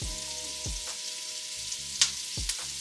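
Lamb chops seasoned with thyme frying in a covered pan give a steady low sizzle, broken by a few sharp clinks and taps from the pan and lid.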